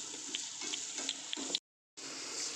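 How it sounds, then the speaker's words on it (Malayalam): Water boiling in a pot for egg biryani gives a steady, close bubbling hiss that cuts out briefly partway through, then resumes. "വെള്ളം തിളക്കുന്നുണ്ട്"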